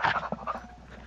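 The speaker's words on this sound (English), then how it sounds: "Did you hear me just like panting?" A person's quick, breathy panting close to the microphone, a few short rhythmic huffs that fade out within about a second.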